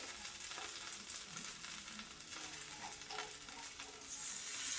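Steak au poivre sauce stirred in a pan, a soft continuous sizzle with light scraping of a utensil, fairly quiet and alone.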